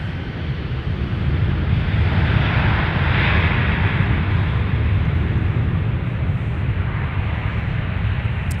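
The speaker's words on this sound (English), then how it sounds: "Our 747 is coming in straight from the south" A Boeing 747 approaching from the south to land at Minneapolis–St. Paul airport, a heavy, steady jet roar with deep low rumble and wind buffeting, loud and continuous without talk.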